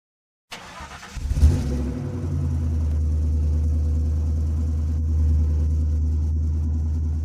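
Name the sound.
Porsche limited edition sports car engine revving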